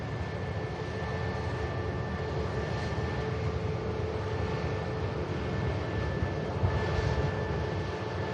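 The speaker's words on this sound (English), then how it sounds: "Here is the EasyJet Prague inbound." An EasyJet airliner inbound from Prague at Manchester Airport, a steady moderate jet roar with a faint high whine held throughout, heard from a distance.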